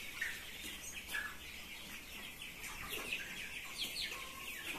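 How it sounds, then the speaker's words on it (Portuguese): About a thousand broiler chickens cluck and chirp in a poultry shed, a busy chorus of overlapping calls with no talk over it. "Mil aves para corte."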